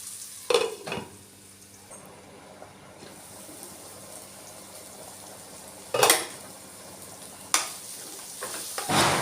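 Turmeric being stirred into an egg curry masala in a pan, with a few sharp utensil scrapes and clinks over a low steady sizzle.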